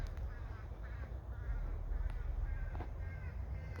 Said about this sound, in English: That's the sound of a crow feeding their baby.